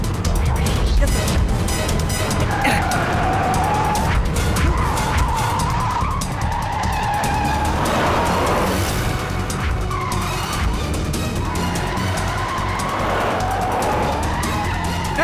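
A car speeding away during a police chase in an action film, tires skidding and squealing repeatedly over a loud, continuous engine roar, with voices heard under the noise.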